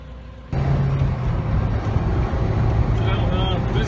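A Lotus sports car runs a lap of a circuit on a club outing in Champagne, its engine a steady loud drone that jumps up abruptly and holds, with voices talking over it.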